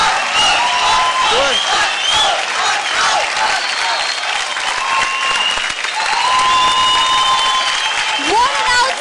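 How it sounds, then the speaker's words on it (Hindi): Sustained, dense applause from a studio audience after a Dance India Dance duet performance on Zee TV, loud and steady throughout with cheering mixed in and a voice speaking over it. "जोरदार तालियां हो जाए कुंवर और शक्ति के लिए।"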